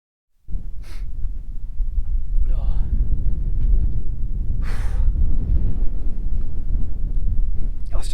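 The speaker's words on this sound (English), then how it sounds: "at the moment up here it's quite windy" Wind blows hard on a Yorkshire mountain peak, a loud, steady low roar buffeting the microphone, starting abruptly and continuing throughout with a few brief breaths.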